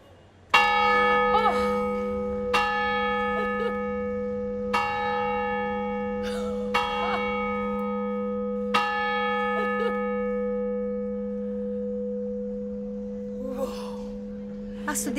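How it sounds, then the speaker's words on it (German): A church bell tower in Olhão rings out loud and close, a heavy bell struck about every two seconds with each long ringing tone overlapping the next, and faint voices near the end. "Aber du hast hier wirklich von dem Glockenturm der Kirche eine wundervolle Kulisse."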